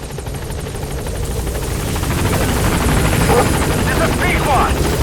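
A B-Quad helicopter in Metal Gear Solid 5 flies in toward a hot landing zone. Its rotor chop beats steadily and grows louder as it nears, and radio speech runs over the top.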